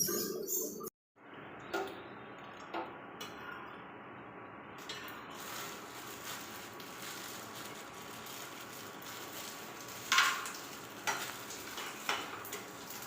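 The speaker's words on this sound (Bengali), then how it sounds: "আমি এই যে ঘরে পাঁপড় ভাজছি, খাবো। পাঁপড় ভাজা হচ্ছে" Papad frying in hot oil at home makes a soft, continuous crackling sizzle with occasional sharper pops and ticks, moderately close and without talk.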